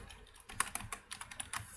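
Fingers type on a computer keyboard during a coding session, producing quick irregular clicks of keys pressed close to a microphone, quiet and alone with no voices.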